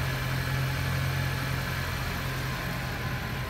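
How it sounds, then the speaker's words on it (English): A 2017 Honda CR-V Touring idles after a remote start, a steady, even low hum holding at one level throughout. "I'm going to shut off the remote start here"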